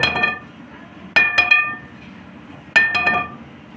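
Three sharp, bright clinking taps on a Crical Pro carbon pool cue shaft, with short ringing tails, spaced apart over a quiet background.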